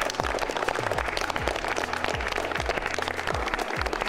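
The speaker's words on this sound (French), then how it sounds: "Je pense que vous pouvez vous applaudir, les étudiants vont vous applaudir aussi" Applause at a biosciences student forum in Lyon, a dense continuous burst of clapping from a crowd, loud and close, with low rhythmic sounds pulsing underneath.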